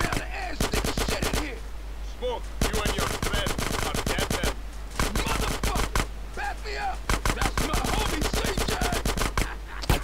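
Rapid automatic gunfire from a weapon in the video game GTA San Andreas, loud close bursts of rattling shots separated by brief pauses, repeating across the whole stretch.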